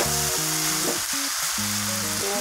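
Onion and spices frying in hot oil for an Assamese curry: a steady, dense sizzle fills the whole stretch, loud and close, with no talking over it.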